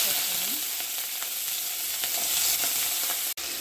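Mustard and fenugreek seeds sizzle steadily in hot oil for a Chettinad okra tamarind curry, a dense, close frying hiss with faint crackles and a brief clatter near the end.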